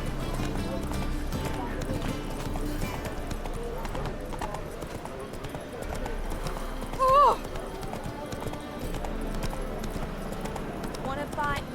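Roach the horse galloping in The Witcher 3, a steady rapid clip-clop of hooves under ongoing speech, with one brief neigh partway through.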